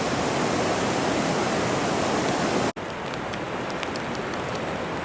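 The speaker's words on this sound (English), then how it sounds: "It's pouring rain." Heavy pouring rain near Chown Glacier on an overcast day, a dense, loud, continuous hiss of downpour with a brief cut midway, then steady rain with faint scattered drops.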